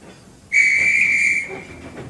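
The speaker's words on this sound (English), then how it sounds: "Well, that's my guard's whistle." A train guard's whistle sounds once, a clear, shrill steady tone of about one second, close and fairly loud, over quiet background.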